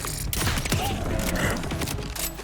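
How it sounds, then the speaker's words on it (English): A double-barreled shotgun in Borderlands 4 fires in sharp, loud blasts, broken up by clicking and creaking mechanical reload noises between the shots. "this is a double-barreled shotgun. I have to reload constantly."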